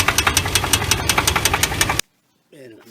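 Jeep Grand Cherokee engine idling with a rapid, steady knocking tick under the running hum for two seconds, then a cut to near silence and a short burst of talking.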